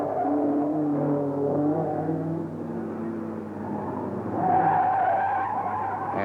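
A 1971 Circuit of Ireland rally car skids with loud, sustained tire noise, its engine droning beneath in a strong, steady wash that swells louder toward the end.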